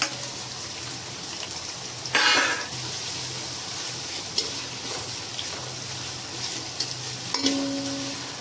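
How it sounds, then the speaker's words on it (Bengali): Sliced onions fry in a pan for an aloo dum biryani: a soft, continuous sizzle runs throughout, broken by a few louder scraping bursts of stirring and a couple of faint clinks. "পেঁয়াজটা ততক্ষণ ভাজা হোক।"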